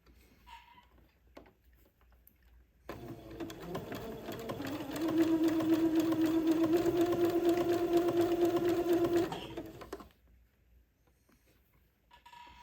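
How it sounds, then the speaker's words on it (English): A sewing machine stitches entredeux onto lace for a baby's wedding-ensemble garment, starting abruptly and running at a steady, even hum that grows louder midway before stopping, with quiet room sound before and after. "when I get finished sewing the entredot to one side of this piece of lace"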